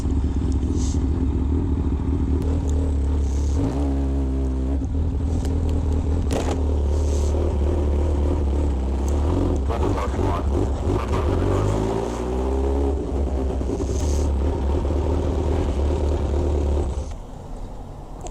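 A motorcycle speeds along a road, its engine droning loud and close with rising and falling revs and a clattering whine, steady for the whole stretch before easing off at the end.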